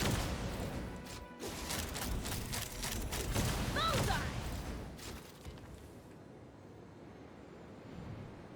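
Naval battle video game gunfire roars in dense, rapid volleys with heavy booms and a droning engine underneath, loud and continuous before easing into a quieter rumble.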